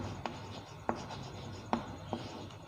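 A teacher writes a chemistry example on the board during a class 10 science lesson, leaving a few distinct taps and short scratching strokes spaced irregularly over a low room hum.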